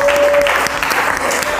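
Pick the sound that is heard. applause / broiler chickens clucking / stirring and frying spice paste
applause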